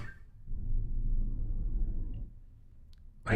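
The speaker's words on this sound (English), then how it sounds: "I hear the garbage truck outside." A garbage truck outside gives a low, muffled rumble that swells for about two seconds and then fades, heard faintly through walls with no talking.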